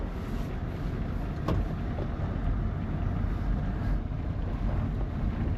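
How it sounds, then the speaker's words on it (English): Strong wind buffets steadily across an exposed point at a bush camp near Coffin Bay, a continuous loud rumble with heavy low-end gusting against the microphone. "A little bit windier being right out on the point, I guess."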